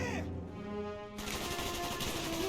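Gunfire in the shooter game Call of Duty: Black Ops, a dense, steady burst of shots that cuts in abruptly after a brief quieter moment with a tonal hum, continuing loud to the end.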